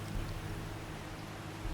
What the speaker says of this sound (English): Rainy right here.